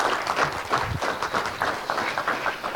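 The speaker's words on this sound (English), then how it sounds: "let's have a wonderful round of applause for our candidates for Railroad Commissioner" An audience at a forum for Texas Railroad Commissioner candidates applauds, a dense, fairly close burst of clapping that holds steady throughout.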